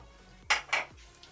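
A spoon clanks and scrapes twice against a pot while murgh cholay, a chicken and chickpea curry, is stirred. Two short, close, fairly loud bursts are followed by a fainter tap.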